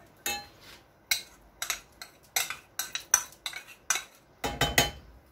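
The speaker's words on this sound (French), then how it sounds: "on fait une pâte qu'on mélange bien ensemble. Et à ça, on mélange le maïs." Corn fritter batter being mixed in a bowl with fresh corn kernels, a quick irregular run of sharp clinks and scrapes of a utensil against the bowl, close and without talk.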